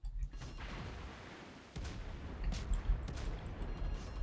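Naval gunfire from a warship firing high-explosive shells in the video game World of Warships, heard as a low distant boom followed by rumbling battle noise, fairly faint with no talk.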